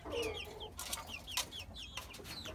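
Desi chickens, including young tiger-breed hens, cluck on a rooftop in a series of short, close calls, one after another, with a steady low outdoor background.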